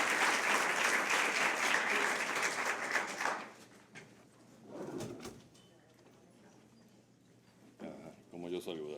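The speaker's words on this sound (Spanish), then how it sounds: "Un aplauso para el profesor." Enthusiastic applause from a lecture audience at a panel discussion greets a professor for about three seconds, then fades into a quiet room with shuffling and a few scattered voices.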